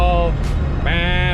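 A B18-swapped EG Honda Civic on its stock muffler revs hard, its engine note climbing in pitch and then jumping sharply higher as VTEC engages, heard from inside the car, loud and close.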